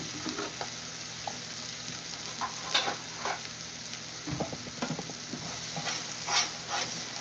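Homemade cheese whiz of yellow American cheese and a couple tablespoons of milk being stirred in a pan, with a steady soft sizzle under scattered scraping and tapping of the utensil.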